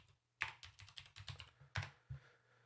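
Keys clatter on a computer keyboard while a command is entered in a terminal: a quick burst of about a dozen close, crisp keystrokes in an uneven rhythm, with a brief pause near the end and no talking.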